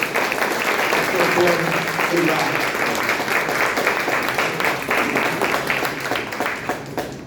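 A church congregation applauds loudly in a sustained, dense burst of clapping that holds steady for several seconds, with a voice speaking briefly over it.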